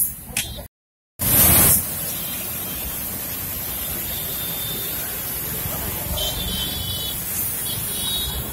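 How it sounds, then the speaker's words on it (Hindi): A strong hiss of water sprayed onto the front of a car to cool the AC runs steadily and close, starting with a brief loud burst after a short gap. "भाई पानी मार दो जरा आगे।"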